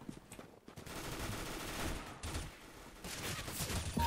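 Rapid automatic gunfire rattles in Counter-Strike: Global Offensive, dense continuous bursts of shots at low level filling the whole stretch without talk.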